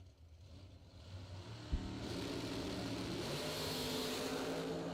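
A dragster launches down a drag strip: a quiet idle gives way to a sudden thump and then a loud, sustained engine roar that holds steady at high revs, heard alone without voices.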